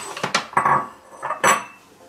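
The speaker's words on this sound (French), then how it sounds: "Après, on va remplir la vaisselle." Dishes and cutlery clink and clatter in a home kitchen as the dishwasher is loaded, a run of close, bright knocks and rattles with no talking.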